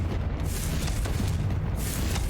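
A Confringo blasting spell exploding in Hogwarts Legacy, a loud sustained rumbling boom that fills the whole moment.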